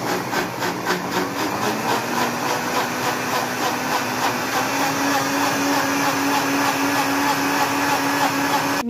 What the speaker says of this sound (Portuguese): Minhas amigas, agora já passei no liquidificador.